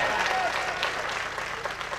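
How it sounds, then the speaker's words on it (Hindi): An audience at an Urdu poetry recital breaks into loud, sustained applause, with dense, even clapping filling the whole moment and voices mixed in beneath it. "एक बार दोनों हाथ करके जोरदार तालियां बजाकर मुझे बताएं।"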